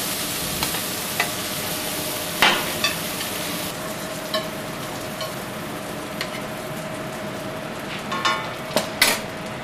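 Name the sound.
scallops sizzling in a frying pan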